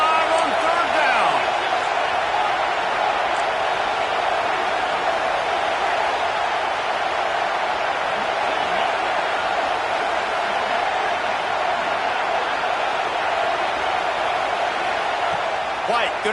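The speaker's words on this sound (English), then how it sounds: "The Buckeye crowd alive on third down." Ohio State Buckeyes football stadium crowd roaring on third down, a loud, sustained, unbroken wall of cheering and noise that holds steady throughout, with broadcast commentary voices underneath.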